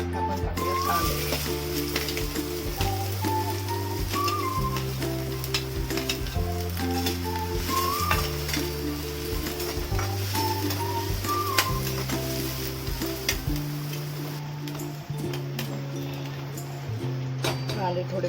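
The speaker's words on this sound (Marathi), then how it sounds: "कांदे थोडे फ्राय झाले" Onions frying in a pan sizzle steadily for the whole stretch, loud and close, with background music running under it.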